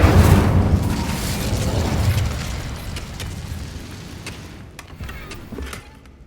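A booming fiery burst from the Incendio fire spell in Hogwarts Legacy, loud at the start and then decaying into a long, fading rumble with faint clicks near the end.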